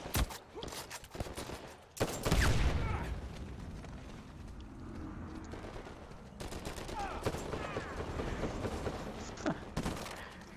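Gunfire in Uncharted 4 multiplayer, with rapid bursts and scattered shots loud against a busy game background, and a heavy blast of fire early on.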